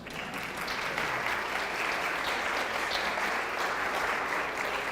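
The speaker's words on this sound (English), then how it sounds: "Another round of applause for Danny Buettner." A community keynote audience gives sustained, even applause for a speaker, a dense continuous clatter of many hands filling the whole stretch.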